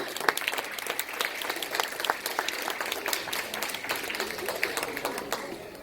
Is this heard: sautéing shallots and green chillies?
no